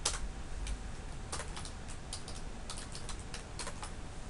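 Someone types quickly on a computer keyboard, the clicks coming in irregular bursts of close, crisp keystrokes over a faint background hum.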